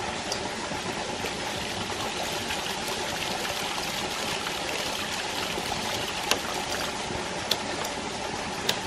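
Water flushes steadily through a ram pump valve held open to clear debris, a dense, continuous rushing and gurgling close by, broken by a few sharp metallic clicks near the end.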